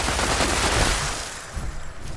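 A minigun in Fallout 76 fires at the ground in a loud, dense, continuous roar of rapid gunfire that fades into a lower rumble near the end.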